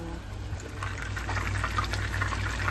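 Chicken malai boti steams in a covered pan, giving a steady close bubbling sizzle with a low rumble beneath that grows slightly busier, and no voices are heard.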